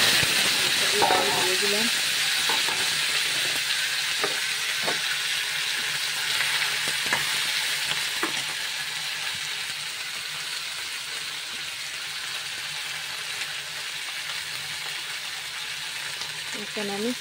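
Panch phoron five-spice tempering frying in hot oil for a cauliflower, potato and pabda fish curry, giving a steady broad sizzle and hiss that eases slightly over time, with a few stirring clinks and brief talk over it.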